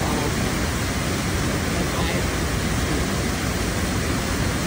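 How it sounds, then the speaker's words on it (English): Sol Duc Falls in Olympic National Park roars as a steady, dense broadband wash of falling water, loud and unbroken throughout with no talk. "beautiful waterfall."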